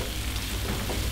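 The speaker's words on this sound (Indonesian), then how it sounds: "Kita tumis sampai harum" Ground spice paste sautéing in a pan, a dense, steady close sizzle with soft stirring scrapes, no voices.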